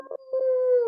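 A person's voice imitates a wolf howl at the close of an online group coaching call, a brief yelp followed by a rising, sustained tonal howl, close and clear with no other sound.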